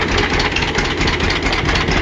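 A 1937 John Deere D tractor engine runs with its muffler fitted, a loud, steady low chugging with a fast, even pulse throughout, close up and with no talk over it.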